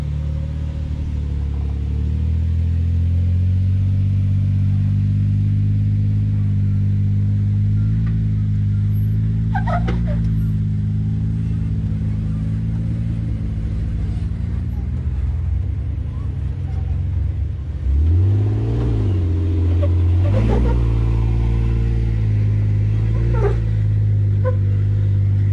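A Jeep engine rumbles low and close while climbing a rock obstacle on an Easter Jeep Safari trail, with a few throttle surges and a rising rev near the end.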